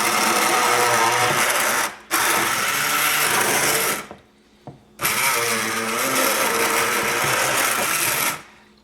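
A food processor grinding hummus with garlic, running in loud whirring bursts, stopping briefly twice before spinning up again, with no talk over it.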